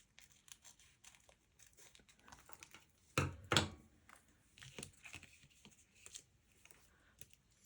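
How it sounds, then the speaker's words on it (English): Scissors snip and crinkle through a small plaid paper piece for a Halloween traveler's notebook, soft close rustling with two sharper crunching cuts midway, no talking. "I'm going to cut that little sort of plaid piece out."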